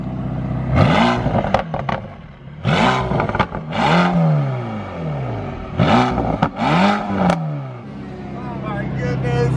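Mercedes-AMG GT Black Series with an 850 hp engine, heard from outside as it revs repeatedly in loud bursts with falling pitch between blips, several sharp pops in the gaps, close by.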